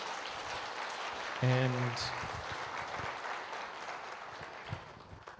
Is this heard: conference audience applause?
yes